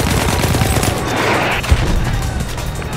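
Battlefield 1 gunfire in a video game, dense rapid shots and booms layered over constant battle noise, with a brief louder bang midway.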